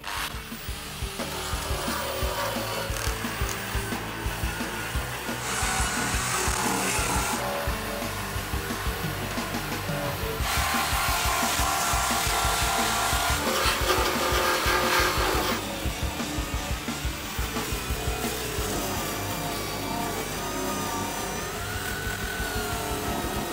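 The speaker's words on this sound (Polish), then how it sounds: "Zaczynamy etap czyszczenia podłogi z rdzy, która jest nieźle zardzewiała. Mnóstwo dziur, szlifierka," An angle grinder strips heavy rust from the holed floor of a Mercedes Sprinter van, giving a continuous harsh abrasive whine that surges louder in several stretches as pressure changes, with no voices.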